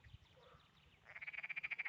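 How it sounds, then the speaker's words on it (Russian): A frog or toad croaking outdoors in a countryside setting near water, a rapid, steady series of about a dozen pulsed croaks building after a quieter start, fairly close and alone. "Лягушка, жаба."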